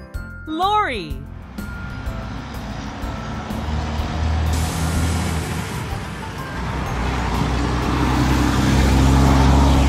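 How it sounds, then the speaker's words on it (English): A lorry with air brakes gives a brief squealing, wavering tone at the start, then its heavy engine rumbles on steadily and grows gradually louder amid surrounding road noise. "Lorry."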